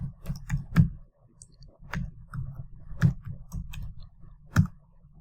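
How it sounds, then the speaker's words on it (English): Scattered clicks on a computer keyboard as a Telnet command is entered at a command prompt, with irregular close keystrokes and pauses between them. "go over to command prompt, and just type Telnet"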